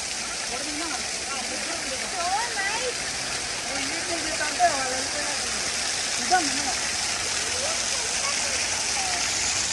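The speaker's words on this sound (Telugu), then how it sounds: "వెనకంతా ఇందులో నుంచే వస్తున్నాయి వాటర్. పైనుంచి డ్రాప్స్ ఎంత బాగుందో చూడండి" Water drips and flows from a cave at Turner Falls, a steady broadband rush with a couple of brief drip-like ticks, while people talk over it.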